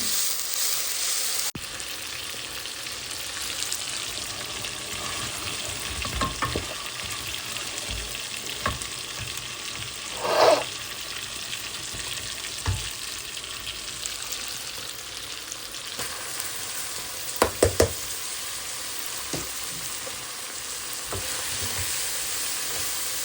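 Onion, garlic and green chili fry in a pan for a vegetable bhaji, a faint, steady sizzle running throughout, broken by occasional clinks and scrapes of stirring.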